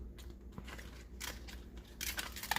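Knife cutting through washed, folded cabbage leaves in a home kitchen, a few soft crisp crunching slices close up, with quieter rustling between them.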